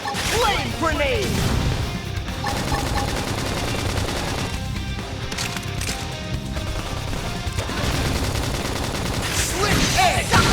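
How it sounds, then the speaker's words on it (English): Flame grenade attack in the video game Xenoblade Chronicles X, with bursting blasts, whooshes and rapid impacts amid busy battle effects and music, while voices call out over the action. "Flame grenade!"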